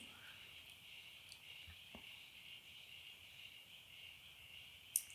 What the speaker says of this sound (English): You can hear all my frogs out there right now.